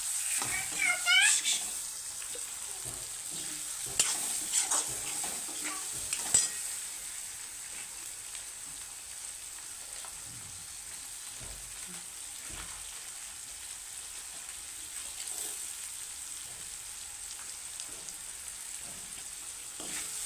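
Chopped onion and tomato frying in oil for a simple moth dal, with a continuous soft sizzle and a few clinks and scrapes of stirring early on, under faint background sound.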